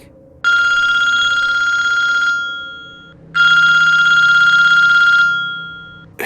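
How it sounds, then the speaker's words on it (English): A telephone bell rings twice, each long metallic trill lasting about two seconds and fading out, with a short pause between rings. "the phone started ringing"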